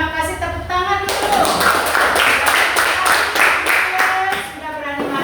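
Audience clapping at a church gathering after a prayer, a steady wash of hand claps sustained throughout, with voices talking over it at the start and end.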